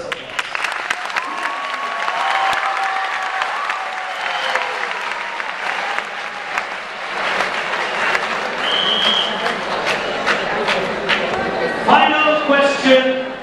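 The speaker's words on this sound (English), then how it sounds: "Both of them deserve a thunderous applause." Sustained audience applause at a TCS IT quiz final in Ahmedabad, a broad crowd clatter running throughout, with a voice speaking over it and scattered whistles and cheers rising near the end.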